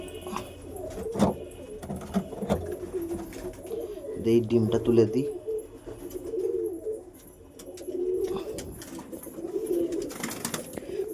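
Pigeons coo steadily inside a pigeon house where paired birds are feeding, their soft repeated calls running through the clip beneath a man's close, casual speech and occasional handling noises.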